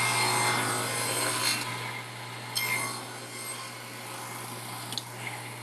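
A table saw cuts a groove through a wood block for a screw vise, giving a steady, dense broadband whir with a constant motor hum and slight swells as the blade bites, with no talking.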